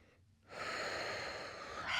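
A sharp, heavy inhalation or exhale rushes in after a brief quiet moment, sustained breathy air noise close to the listener.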